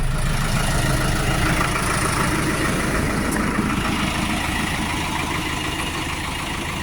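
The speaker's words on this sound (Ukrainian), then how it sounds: "Трактор не шумний, не гучний, всередині тихенько, знаружі теж він не сильно шумний" A Solis 105 tractor's diesel engine idles steadily at a low, even rumble, heard from outside without any voices.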